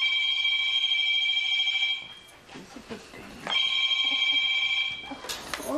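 A telephone rings in a house, a repeated electronic trill sounding in two long bursts with a short gap between them, loud and near, with soft background movement.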